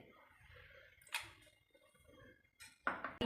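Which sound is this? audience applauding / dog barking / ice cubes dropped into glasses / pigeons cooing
ice cubes dropped into glasses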